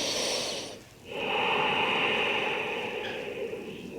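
Slow, deep breaths during a yoga stretch in a morning vinyasa flow, a long airy exhale giving way after a brief pause to a steady, close inhale with no talking.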